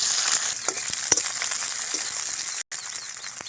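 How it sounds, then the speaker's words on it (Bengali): Bay leaf and chopped onion fry in hot oil with a loud, steady, close sizzle, broken by a few small pops and a brief dropout near the end. "তেলটা গরম হয়ে গেছে, এবার একে একে মশলাগুলো দিয়ে দেবো। প্রথমে তেজপাতা দিয়ে দিলাম, এরপর পেঁয়াজ কুচি"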